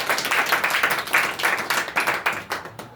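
A church congregation claps in a fast, even rhythm during worship. The many hands sound close and lively, keeping a steady beat for several seconds.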